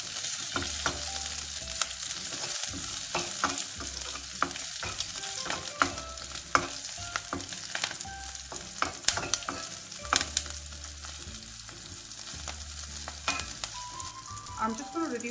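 Curry leaves and green chilies fry in hot oil for a Chicken 65, giving a steady close sizzle with crackling pops and scattered sharp spatters, plus occasional stirring clinks throughout.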